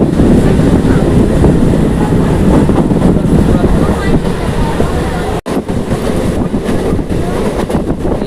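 An EMU special train runs on the Panskura to Digha line, with steady loud rumble and wheel noise throughout, a brief dropout midway, and faint rhythmic rail clatter beneath.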